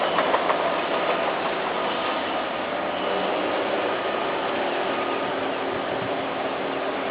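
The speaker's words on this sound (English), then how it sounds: "There's a bulldozer moving a lot of ground." Bulldozer moving ground at a construction site, a continuous distant diesel engine rumble with a steady drone and faint mechanical clatter, no talking.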